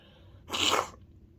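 A single sharp sneeze bursts out close by, brief and loud against an otherwise quiet background.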